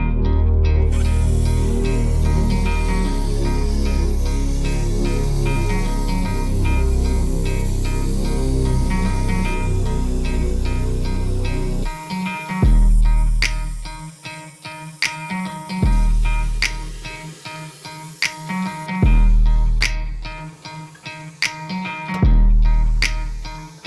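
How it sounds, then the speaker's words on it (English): Hand plasma cutter blowing out an old differential center on a Nissan diff being fitted into a Toyota: a steady loud hiss and roar for about twelve seconds, then broken into irregular bursts with pauses. "I've got most of it blown out with the plasma."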